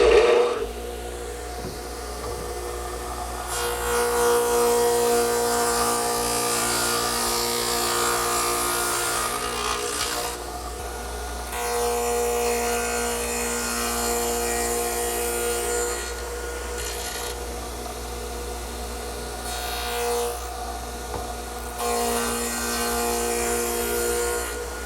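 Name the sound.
stacked dado head cutter in a radial arm saw cutting wood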